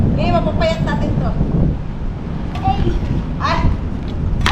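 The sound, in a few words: strong wind blowing into microphone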